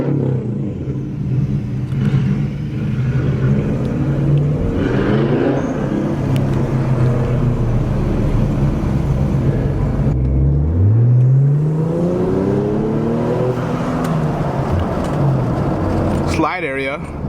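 An Infiniti Q60 cruises on a scenic drive, with a steady engine drone and a clear rev that climbs and falls midway, and muffled voices beneath it.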